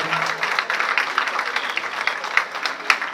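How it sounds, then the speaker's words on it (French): An audience at a graduation ceremony claps in a dense, continuous round of applause, fairly close and loud, with a few sharper individual claps standing out. "Je vous remercie des applaudissements."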